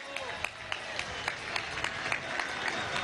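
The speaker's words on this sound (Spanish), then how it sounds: "Un aplauso a la almirante en jefa" Applause from a crowd at a youth march welcomed at Miraflores presidential palace in Venezuela, honouring the admiral in chief; scattered claps ring out over a busy background murmur, with talk going on underneath.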